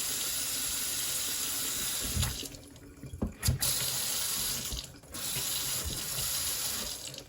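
Water gushes steadily from a Delta Classic kitchen sink faucet, a loud close hiss that cuts off briefly twice, with clicks of the handle as the flow is turned between cold and hot.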